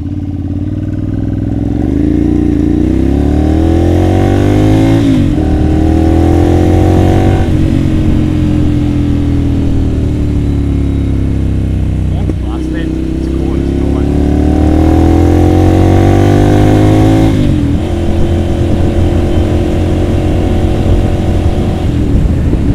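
A Ducati Monster 796 S2R is ridden on the road, and its engine revs up through the gears in repeated rising pulls with brief dips at each shift. The engine sounds loud and close, with wind rush underneath.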